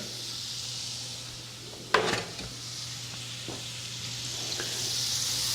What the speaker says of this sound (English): So we don't want this to burn, so I'm just mixing it around.